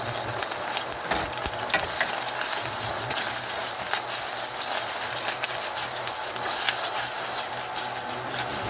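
Tomato puree frying in a hot pan for chicken madras, a steady bright sizzle with occasional soft stirring knocks, close and continuous.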